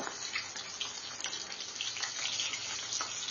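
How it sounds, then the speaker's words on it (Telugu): Chicken lollipops fry in a pan over a low flame, giving a steady, dense sizzle that runs evenly throughout with no pauses and no voices. "ఇప్పుడు రెండో వైపు తిప్పుదామండి స్టవ్ సిమ్లోనే పెట్టుకొని వేయించుకోవాలండి"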